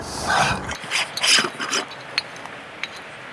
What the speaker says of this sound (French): au final on n'aura plus qu'à visser tout ce petit monde